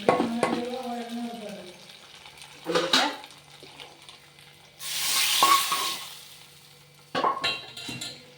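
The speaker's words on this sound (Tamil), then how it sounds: "நல்லா பொரிஞ்சிட்டு பாருங்க" Spices crackle and sputter as they temper in hot oil in a pan for ven pongal. Short close bursts of sizzling alternate with stirring and clinks of metal, and a longer loud hiss comes midway.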